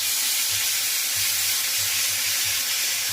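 Garlic and ginger-onion paste sizzling in a small amount of oil for a fish curry, a steady close hiss with a faint low pulsing thump beneath it, no voices.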